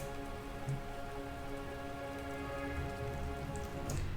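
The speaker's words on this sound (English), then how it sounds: "I also added some rain." Soft, steady rain patter with a faint tonal drone underneath, continuous and fairly quiet throughout, layered into a future bass track in FL Studio.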